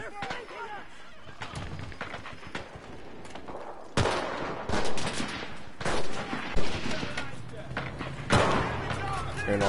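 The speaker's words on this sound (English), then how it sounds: "Hearing all that gunfire like that makes me think they're close by." Dense World War II gunfire from the game Enlisted, with repeated rifle shots and bursts of automatic fire cracking over one another. Several loud blasts punch through a constant background of battle noise, and a player's voice is audible in places.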